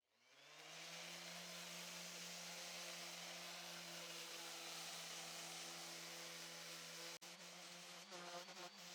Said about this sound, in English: I'll sand everything using the random orbital sander with 120 grit sandpaper